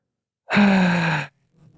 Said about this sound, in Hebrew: קחו נשימות עמוקות ואיטיות, בלי למהר